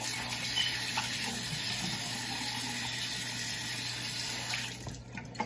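A tap running steadily into a sink for washing a face at night, a close continuous water rush that cuts off near the end.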